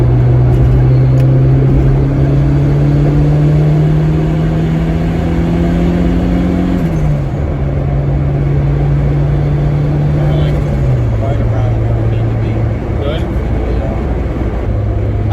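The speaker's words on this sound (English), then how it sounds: "this turbo is making such beautiful noises" A tuned Honda Civic fitted with a cheap eBay turbo drones steadily from close by, its engine tone holding and then dropping in pitch twice like gear shifts, over constant loud road and wind noise.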